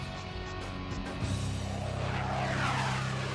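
An F/A-18 Hornet jet's engine gives a loud, steady roar with tonal whine, rising in intensity as it builds toward a broad rushing blast.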